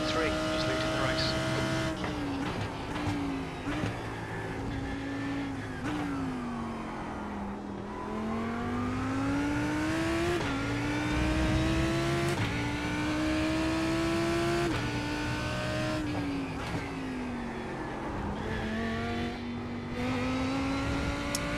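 Race car engines in a GT3 racing video game, a loud continuous whine that climbs and drops through gear changes and revs while a voice talks over it.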